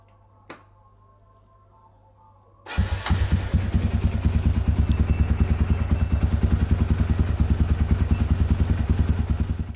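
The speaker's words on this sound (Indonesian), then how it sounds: "Let's go, kita dengar suara Tiger 2000 ini." A Honda Tiger 2000 motorcycle built in a custom CB400 style starts after a brief click and near-silence, then settles into a steady, close, loud idle with a rapid even thumping beat.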